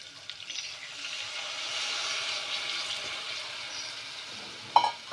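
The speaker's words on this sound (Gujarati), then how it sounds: "બટેકા અડધા ડૂબે એટલું પાણી આપણે ઉમેરવાનું છે" Water is poured into a pressure cooker holding potatoes and stuffed brinjal, a soft, steady splashing trickle at low level for several seconds, ending with a brief sharp clink.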